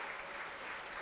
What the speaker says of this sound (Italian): applausi sportivi anche per Giampaolo